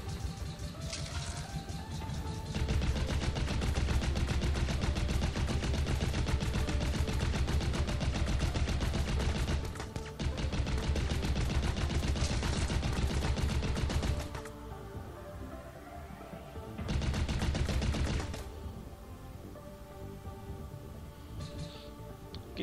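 Rapid gunfire from a plane shooter video game, Humans Must Answer, rattles in dense continuous bursts over game music, dropping out briefly twice before resuming, loud and without speech.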